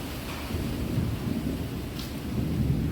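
Summer rain driven by strong wind, a dense steady rushing roar with low rumbling thunder underneath, continuous and fairly loud, with no talk.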